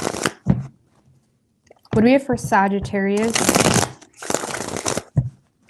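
Playing cards are riffled and shuffled in several brisk, crisp bursts, close up, with a voice speaking in between.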